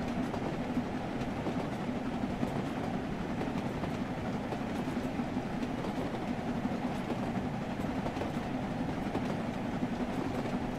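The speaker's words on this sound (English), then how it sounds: "pulling a train of empty coaches, doing a relief train to Crewe" An LMS 8F steam locomotive hauls a train of empty coaches on a relief run to Crewe, heard as a steady, continuous rumble of wheels and carriages, fairly loud and unbroken throughout, with no talk over it.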